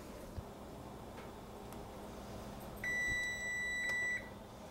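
An electronic kitchen timer beeps in a steady high tone for about a second and a half while bagels boil, heard close and clear over a low kitchen hum.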